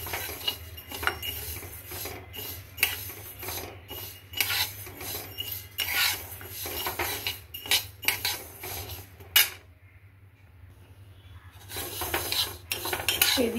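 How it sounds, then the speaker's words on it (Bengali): Moong dal dry-frying in a pan over a low flame for a sweet dish, with a spatula scraping and rattling against the pan in steady, repeated strokes, briefly pausing midway and then resuming. "একটু লো ফ্লেমে ধৈর্য ধরে একটু ভেজে নেব, খুব বেশি ভাজবো না লাল করে।"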